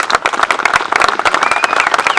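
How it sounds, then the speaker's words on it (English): Audience applause at a Veterans Day service, dense rapid clapping from a crowd filling the whole moment steadily, fairly loud and close with no talk over it. "A round of applause for Kay"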